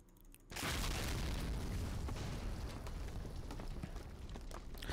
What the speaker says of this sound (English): kind of taking mortar fire now.